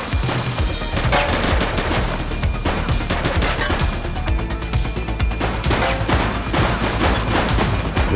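Rapid, loud bursts of gunfire fill a police shootout in the video game The Precinct, sustained machine-gun fusillades and sharp shots crackling continuously with no pause.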